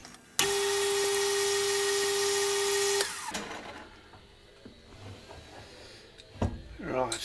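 A lathe motor whirs at a steady high pitch for a few seconds as a center drill works 12mm aluminium rod, then winds down, leaving quieter clinks and handling noises.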